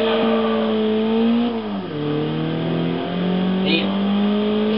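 A Nissan Silvia S15 Spec-R with a piston engine in a racing video game holds a loud steady drone, then drops in pitch and climbs again as it revs, with someone talking over it.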